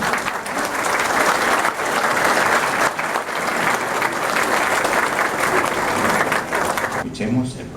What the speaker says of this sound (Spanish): Pedimos un aplauso especial para él.